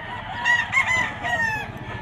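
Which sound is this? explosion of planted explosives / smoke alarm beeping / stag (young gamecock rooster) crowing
stag (young gamecock rooster) crowing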